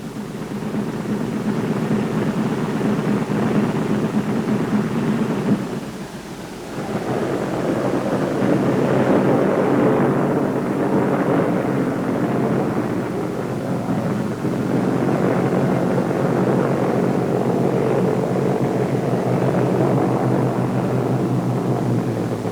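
A B-17 Flying Fortress's piston engines run up before shutdown, a loud, steady, broad roar that dips briefly and then holds at a continuous drone.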